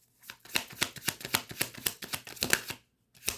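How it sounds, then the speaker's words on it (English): A deck of tarot cards being shuffled, with a steady run of crisp riffling flicks close to the microphone, then a short pause and one more flick at the end. "That's the only one flipped over, as you can see as I'm shuffling."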